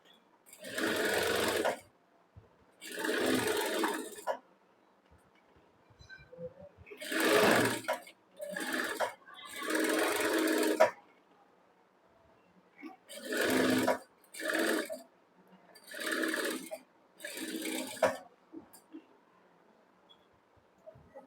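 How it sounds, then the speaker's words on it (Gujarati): A sewing machine stitches around a princess cut blouse in about nine separate bursts, each a loud, steady whirring run of one to two seconds, with quiet gaps between them. "હવે આપણે ફરતી સિલાઈ લગાડી દેવાની."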